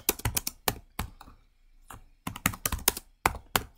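Rapid bursts of keystrokes on a computer keyboard as Rust code is typed, clustered clicks with brief pauses between runs, close and clear with no talking.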